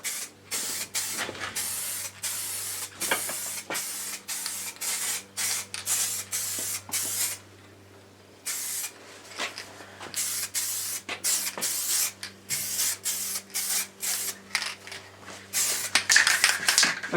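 Short repeated bursts of spraying lay ginger-orange metallic liquid wrap onto a Triumph Tiger motorcycle, each hiss lasting a second or so with brief pauses between and one longer gap in the middle.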